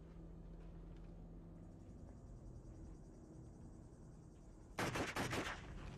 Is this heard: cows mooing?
no